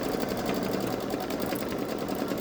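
A Babylock Solaris Vision embroidery machine stitches flower outlines with a steady, fast, even whir that runs unbroken through the whole stretch. It is close and moderately loud, and no voices are heard.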